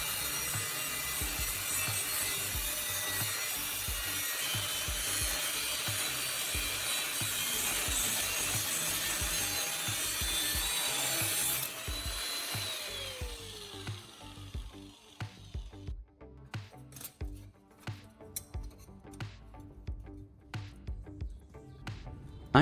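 An angle grinder cuts a steel sickle into curved pieces, a steady loud rasping grind for about twelve seconds, then winding down into scattered scraping and clanking handling noises.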